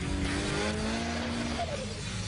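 Prototype race car on a tyre test circuit, engine note rising steadily through a hard acceleration before easing into a corner, loud and close throughout with no talking.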